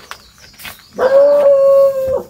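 A dog lets out one long, drawn-out howl, loud and close, after a few faint scattered noises.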